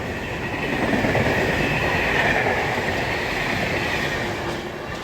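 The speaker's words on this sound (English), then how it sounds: "Giving us a nice beautiful free tone flying through Northallerton on a short loaded train." A short loaded freight train races through Northallerton station, its steady broadband rumble and rail clatter holding loud and close for the whole stretch, with a bright sustained tone riding above the wheel noise.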